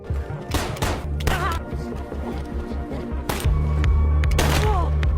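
Gunfight in a film scene: a car getaway shootout, with several bursts of rapid gunfire and heavy low booms layered over music and dialogue, growing louder and denser toward the end.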